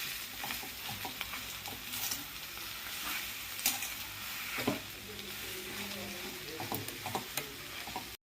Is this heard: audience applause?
no